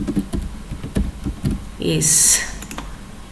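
Typing on a computer keyboard while working in an Excel spreadsheet: quick soft key clicks scattered under a man's spoken instructions, with a brief louder clatter of taps partway through.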